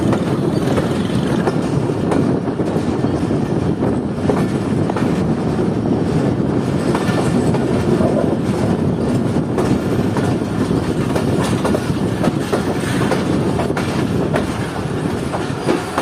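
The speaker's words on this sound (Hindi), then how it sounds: "प्लेटफॉर्म नंबर 3 पर जा रही है इस वक्त हमारी ट्रेन" The Shah Latif Express rolls into a station platform with a loud, continuous rumble of wheels and carriages, rhythmic clickety-clack and wind buffeting the microphone, steady for the whole stretch.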